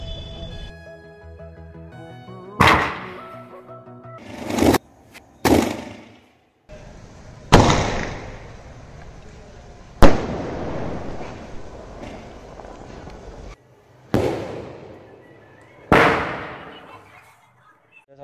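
Hindustan Fireworks Golden Wings sky shot shells fired one after another during Diwali testing, each launch a loud sharp boom followed by a crackling burst and fading tail, roughly eight shots spaced a couple of seconds apart.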